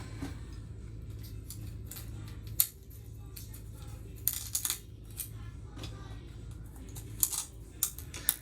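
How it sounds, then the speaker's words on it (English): Small screws clicking and tinkling against a mini quadcopter frame as they are set into its holes, a scatter of light metallic ticks over a steady low room hum. "we're going to start by placing these screws in the 4 holes right here."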